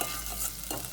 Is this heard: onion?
yes